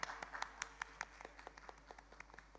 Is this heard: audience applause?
yes